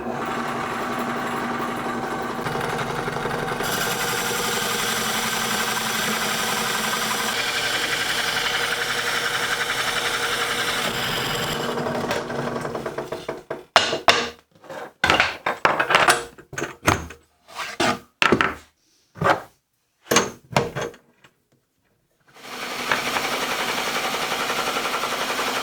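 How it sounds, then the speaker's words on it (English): A drill spinning a large hole saw cuts through wood, first a long steady whirring grind, then a series of short bursts as the trigger is pulsed, a pause, and the motor running again, all loud and close. "I'm using my 2 biggest hole saws for this project"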